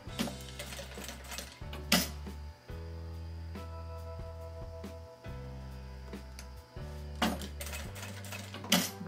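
A sewing machine stitches fabric for an oral-hygiene kit in bursts of rapid mechanical whirring, stopping and restarting several times, with faint handling clicks between runs.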